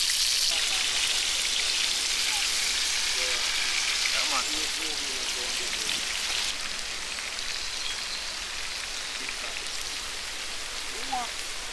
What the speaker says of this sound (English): We take a bit of that flavored oil and use it to saute the vegetables.